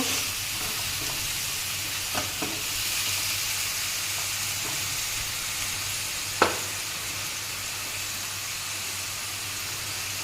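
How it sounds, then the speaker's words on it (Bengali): Spice masala with a splash of water sautés in a pan for a fish dish, a steady sizzle and hiss punctuated by a few soft stirring scrapes and one sharper clink midway. "সামান্য একটু জল দিলাম মশলাটা ভালো করে কষিয়ে নেব"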